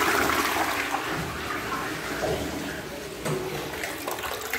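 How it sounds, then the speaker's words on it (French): A newly installed SIAMP wall-hung toilet flushes with a loud, steady rush of water that lasts the whole stretch, with a brief surge near the end. "je remplis le chasse d'eau et je vais tirer la chasse d'eau pour voir ce que ça donne"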